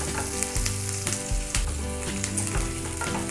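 Garlic, ginger and onion fry in a pan over a full gas flame, giving a steady, close sizzle with repeated low thumps and scraping stirs in an uneven rhythm; no one talks.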